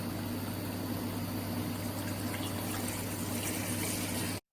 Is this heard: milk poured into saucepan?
yes